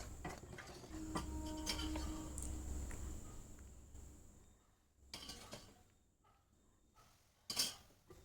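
A spoon stirring flour and oil in a pan for Mysore pak gives faint metallic clinks and scrapes, scattered and irregular at a close but quiet level, with a sharper clink near the end and no talking.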